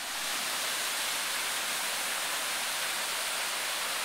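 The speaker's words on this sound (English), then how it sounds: "and found a waterfall. There it is!" Waterfall near a lodge in Costa Rica, a steady dense roar of falling water, close and continuous with no talk over it.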